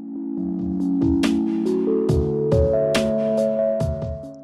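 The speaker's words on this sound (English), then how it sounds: "Let's bring in our drums." Sustained synthesizer chords with a punchy drum beat hitting in a regular rhythm, loud and close.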